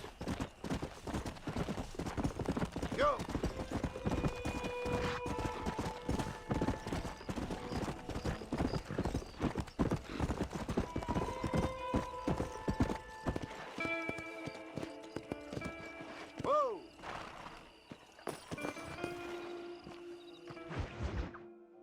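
Horse hooves clip-clop in a quick, continuous rhythm in the Red Dead Redemption video game, with an occasional whinny and the pace slowing near the end.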